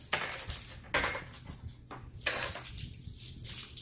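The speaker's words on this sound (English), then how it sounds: "first we're gonna put the candy off in the bowl" Hard Jolly Rancher candies dropped into a bowl, giving a few sharp clinks and rattles, one louder strike near the start and another cluster later, with quiet handling noises between.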